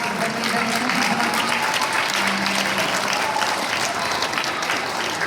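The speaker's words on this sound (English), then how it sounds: "can we give those people a round of applause?" An audience at an UpWards basketball ceremony applauds for several seconds, a dense, steady wash of clapping from a large crowd with faint voices mixed in.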